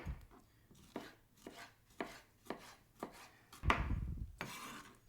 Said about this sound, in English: I like to cut it right down the center